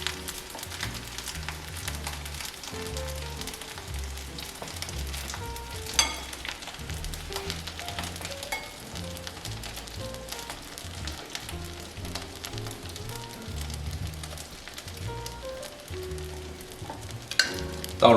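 Crab meat poured into a hot wok sizzles and fries steadily, a continuous close crackling hiss that lasts the whole stretch, with a few sharper pops and a soft low background underneath.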